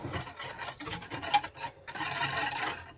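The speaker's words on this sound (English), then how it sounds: "you just want to whisk this up, get everything well combined, get that sugar melted" A small OXO balloon whisk beats a sugary marinade in a bowl, quick close rasping strokes in short uneven bursts with brief pauses between them.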